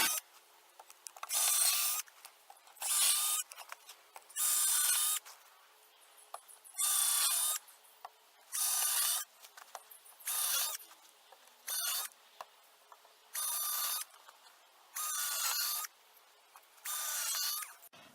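A power drill bores screw holes through a board for a bear-proof chicken coop built from junk, in about ten separate whining bursts, each a second or so long, with short quiet gaps between them.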